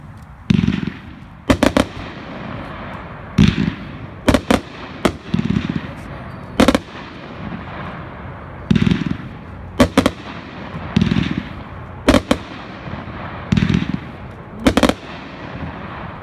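GTX 3300 consumer firework cake firing a long sequence of sharp, loud bangs in irregular bursts, each pop followed by crackling tails, repeating for about sixteen seconds at an outdoor fireworks demo.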